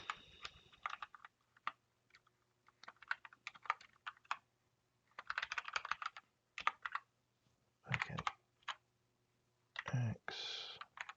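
Someone types on a new computer keyboard in short irregular bursts of clacking keys, close and distinct, separated by quiet pauses, with a loud clatter near the end.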